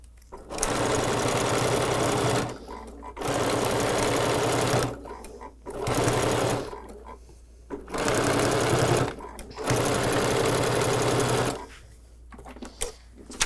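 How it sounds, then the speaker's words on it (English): Sewing machine stitching in several bursts of steady rapid whirring, each a few seconds long, separated by short pauses, fairly close and loud. "Okay, so we're back from our sewing machine."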